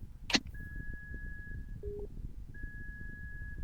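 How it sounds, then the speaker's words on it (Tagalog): A steady electronic alarm tone sounds in the Roblox game ZONE-1. It holds for over a second, cuts out, then resumes, over low background rumble, with a brief sharp noise just before it starts. "What is this alarm for?"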